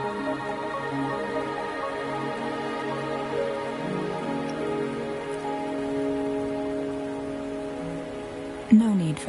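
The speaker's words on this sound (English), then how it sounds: "Are you trapped here by the rain?" Steady rain falls throughout, a continuous hiss of drops on a surface with a low rumbling bed, ending in a sudden louder knock near the close.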